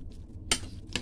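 Mixing ingredients with a utensil in a bowl for tortang alamang, two short, close scraping clinks of the utensil against the bowl.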